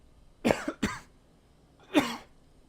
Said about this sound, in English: Sorry if I coughed in the mic.